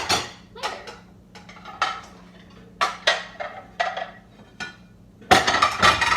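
Household dishes are stacked by type during kitchen cleaning, giving repeated sharp ceramic clinks and clatters in irregular bursts, close and fairly loud, with a louder clatter near the end and no talk.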